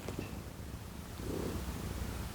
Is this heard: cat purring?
yes